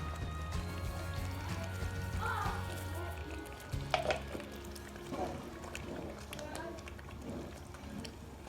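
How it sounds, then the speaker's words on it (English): Shito, a Ghanaian minced-meat chili condiment, simmers in oil in a pot with a soft, steady bubbling and sizzling, accompanied by occasional utensil clinks and someone speaking over it. "I'll allow it to simmer for about 15-20 minutes"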